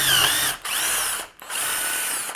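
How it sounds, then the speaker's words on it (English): A power drill boring holes through a wooden board for a farmhouse desk, whining loudly and close in three bursts separated by short pauses. "take your drill and you put it in your guides here"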